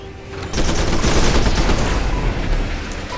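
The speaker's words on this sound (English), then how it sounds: "mortar out of those tanks, and yet our needle jets continuing to bomb" Mortar fire and needle jet bombing in a Civilization Beyond Earth battle, heard as a dense, loud, continuous barrage of overlapping gunfire-like blasts that swells after a brief quieter start, with no talking.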